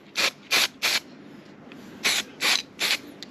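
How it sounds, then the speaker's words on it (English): Six short aerosol spray bursts apply even coats of paint to brake calipers, falling in two groups of three, each a crisp hiss with brief quiet gaps between, close and fairly loud with no talking. "We don't want to put too much on."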